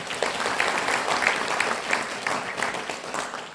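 An audience in the main hall of Busan City Hall claps steadily to open a citizens' award ceremony, a dense, even wash of applause with no voices over it.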